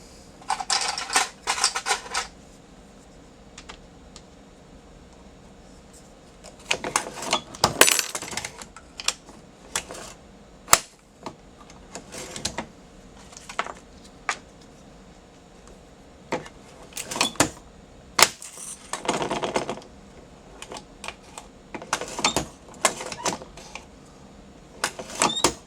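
A MEC 600 Jr reloading press, old style, loading a shotgun shell: scattered clicks, clacks and short mechanical clunks come in irregular bursts, close and fairly quiet with pauses between strokes.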